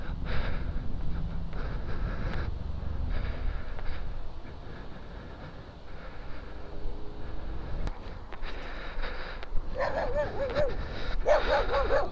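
A dog barks and yips in short bursts outdoors near a castle by a river, with whimpering mixed in and louder, sharper yaps toward the end; steady background noise runs throughout.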